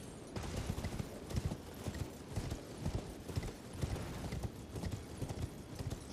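Rapid clip-clop of horse hooves galloping steadily throughout in Elden Ring: Shadow of the Erdtree, close and loud, with a rumbling low-end drive underneath.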